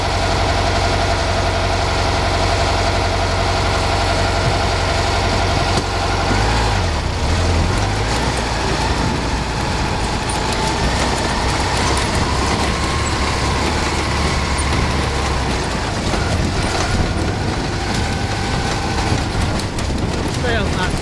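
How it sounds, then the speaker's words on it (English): An off-road vehicle idles steadily in third gear along a trail for a long stretch, a constant droning rumble close by with a brief change in pitch early on. "We're just idling along in third gear here."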